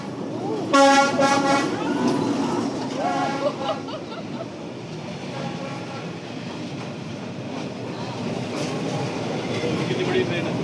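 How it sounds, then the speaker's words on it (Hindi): A large train rumbles past on a Hanoi street, sounding a loud horn with strong harmonic tones early on, while crowd chatter and voices continue underneath throughout. "कितनी बड़ी ट्रेन है।"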